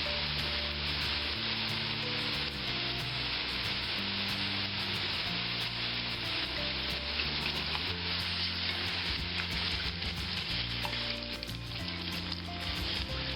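Beef sizzles steadily and loudly in a hot pan for beef burgundy as wine is poured in to deglaze it. The constant frying hiss continues without a break, with a faint musical bed underneath.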